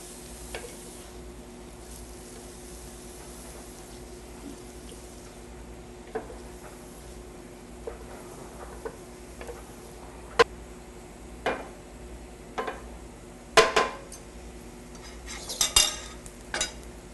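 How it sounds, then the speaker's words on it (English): A utensil stirs ingredients around a pan to soften them, giving soft scraping with scattered sharp clinks against the pan, over a low steady kitchen hum and faint sizzle. "we're going to stir it around a minute"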